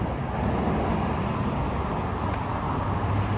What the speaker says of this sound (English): And here comes another non-service Nova hybrid.